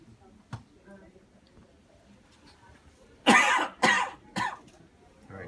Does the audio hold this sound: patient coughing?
yes